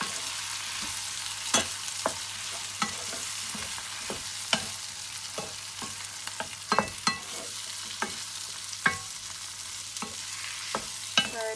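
Curry ingredients get stirred in a frying pan in a home kitchen, with a low steady sizzle under repeated sharp clicks and scrapes of the spoon against the pan, all close and without talk.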